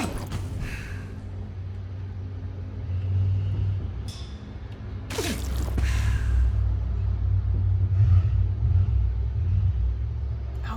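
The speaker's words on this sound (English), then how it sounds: "Oh, it's a car outside." In the video game Vampyr, a car engine revs outside as a low, continuous rumble that swells and holds, heard somewhat distant beneath faint ambient game sounds and a brief whooshing sweep.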